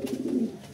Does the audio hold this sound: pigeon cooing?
yes